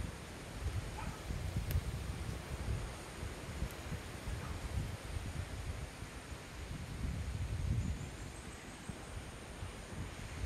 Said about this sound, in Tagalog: Mahangin sa paligid.